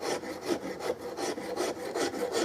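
Filing a metal part of a Carl Stiegele 16-gauge side-by-side shotgun: about eight rhythmic rasping strokes close up, evenly paced back and forth with no speech.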